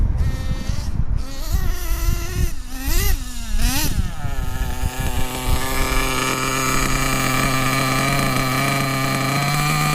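A nitro-fuelled engine runs steadily on its own, a high buzzing whine that rises and dips through a few revving sweeps early on, then settles into a constant, loud drone that holds to the end.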